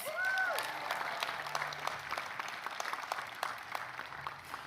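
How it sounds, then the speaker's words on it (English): Graduates and guests at a college commencement ceremony applaud steadily, a broad wash of clapping that continues throughout, with a brief voice at the start. "Let's give ourselves a big round of applause."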